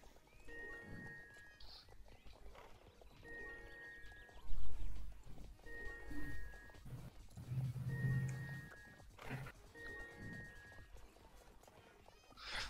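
Horse hooves in the video game Star Stable clop in short repeated bursts under game music with tonal chimes, along with some low rumbles and background sounds.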